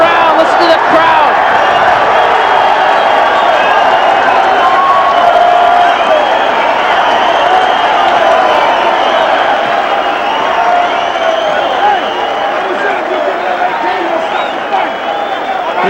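A large boxing-arena crowd at an amateur Golden Gloves bout roars and cheers steadily throughout, a dense, loud wall of voices with whoops and scattered clapping, while a ringside commentator talks over it.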